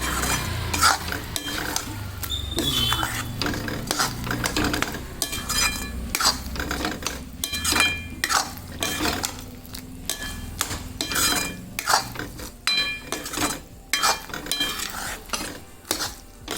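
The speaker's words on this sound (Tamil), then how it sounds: "இதை தூரில் பிடிச்சிடாமல் கிண்டி விடணும்" Garlic pickle simmering in separated oil gets stirred in a pan, with continuous close scraping and clinking of a metal spoon against the pan over a soft bubbling sizzle, repeating steadily throughout.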